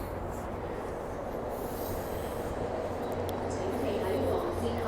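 A train running at Tai Shui Hang Station on a quiet line, a steady continuous rumble with low hum and faint wheel squeal, heard fairly close with some speech.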